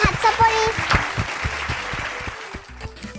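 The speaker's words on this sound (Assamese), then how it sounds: "এটা প্ৰিয়াংশীৰ কাৰণে হাত চাপৰি।" A children's show audience claps for a young girl, a brief burst of scattered hand claps that fades over a few seconds, with a voice speaking over it.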